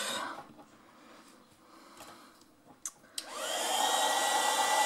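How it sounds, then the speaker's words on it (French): After a few soft handling sounds, a heat gun starts up and blows with a loud, steady whirring rush while drying a wooden embellishment on a handmade birthday card. "Je vais venir sécher avec le heat gun un peu."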